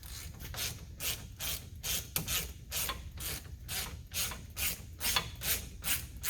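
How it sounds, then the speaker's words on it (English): A ratchet works loose the caliper bracket on a Pioneer 1000 side-by-side during a front wheel bearing job, giving a close, steady back-and-forth rasping click that repeats in an even rhythm with no one talking. "next we're going to take off our caliper bracket"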